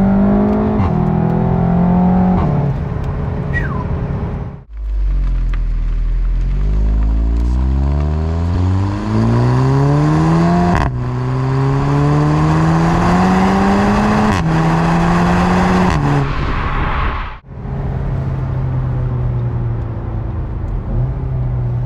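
A turbocharged car engine revs hard and accelerates in long rising sweeps, loud and close, easing off briefly between pulls before climbing again with no talking over it.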